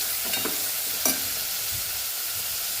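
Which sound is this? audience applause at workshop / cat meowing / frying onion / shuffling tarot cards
frying onion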